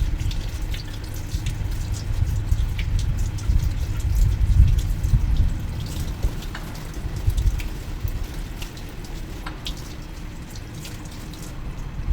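Red vinegar and water come to a boil in a pan for paksiw na tilapia, giving a steady, close bubbling and rushing wash with no voices.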